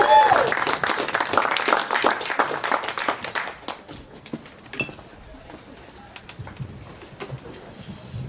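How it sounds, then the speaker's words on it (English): A comedy show crowd applauds the comedians: dense, lively clapping for about four seconds, then thinning to scattered claps and room noise. "How about a round of applause for all the comedians that have been up here?"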